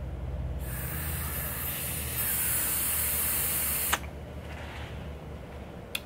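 Air drawn through the wide-open airflow of a Hellvape Anglo RDA vape gives a steady close hiss that rises partway through, then stops with a click and a quieter hiss.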